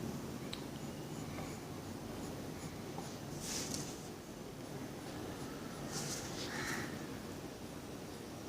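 A pen or pencil scratches across paper while drawing for a parrot craft, soft continuous scribbling strokes with a few brief sharper swipes, close to the recording and quiet.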